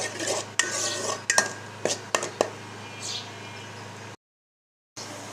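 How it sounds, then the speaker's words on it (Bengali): Spice masala being stirred and fried in a pan for a Bengali katla fish curry, with sharp repeated scrapes and clinks of a spoon against the pan over a soft sizzle and a steady low hum, briefly cutting to silence. "মশলাটা আর একটু কষিয়ে রান্না করতে হবে।"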